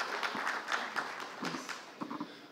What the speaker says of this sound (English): can we have a quick round of applause for the panelists